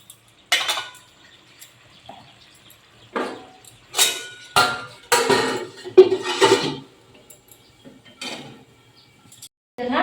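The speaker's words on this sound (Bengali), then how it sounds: "তো আমি এখন একটা ডিশ ঢেকে দেবো।" A dish set over a pan of spicy crab curry, giving several clinks and scrapes of crockery on metal in short bursts, close by and fairly loud, with no talking.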